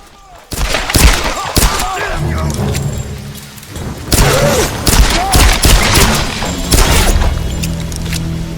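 Gunfire in the action game Tomb Raider (2013), a dense run of loud close shots and booming impacts that surge and fade in bursts, with a faint voice underneath.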